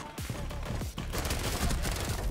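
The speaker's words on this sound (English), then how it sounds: "I'm hearing gunshots and people dying," Video game gunfire in Rainbow Six Siege, a rapid burst of shots and echoing fusillade, fairly quiet and dense with sharp repeated cracks throughout.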